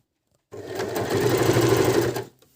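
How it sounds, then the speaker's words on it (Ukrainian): A Janome Q33 sewing machine stitches through six layers of denim at a steady moderate speed, a loud continuous whirring hum close up that starts abruptly and runs for nearly two seconds before stopping. "Я не тягну, вона сама шиє."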